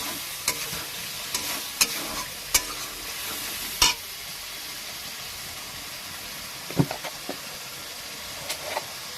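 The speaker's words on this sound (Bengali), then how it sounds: "দিয়ে একটু নাড়াচাড়া করবো" A spiced koi fish and cabbage curry stirred in a pot with a little water: scattered spatula clicks and scrapes against the pot sound over a low, steady simmering sizzle, with no speech.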